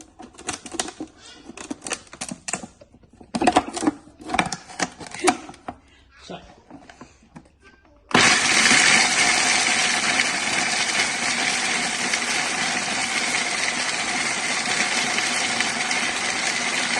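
A mixer grinder coarsely grinds panjiri ingredients for a new-mom recipe, starting abruptly as a loud, steady whirring roar that holds for the second half, after scattered clatter and handling noises.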